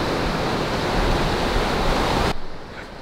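Ocean waves wash in at a beach as a loud, dense, hissing roar that suddenly drops to a much quieter wash near the end.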